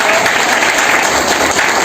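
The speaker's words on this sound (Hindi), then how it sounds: "कपिल दांगी जी को आमंत्रित करूंगा, जोरदार तालियों से" Loud, thick crowd applause welcoming Kapil Dangi at an SSC GD physical and written exam coaching gathering, a dense, unbroken roar of clapping held at full strength throughout.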